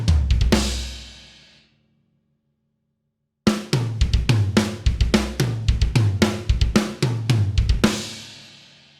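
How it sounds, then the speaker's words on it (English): A drum solo pattern on a kit, snare and tom hits alternating with kick drums in between, loud and close; one crash rings out and decays, then after a silent gap a dense, rhythmic run of strikes continues. "snare, snare, tom, and I'm putting kick drums in between that, so it sounds like this"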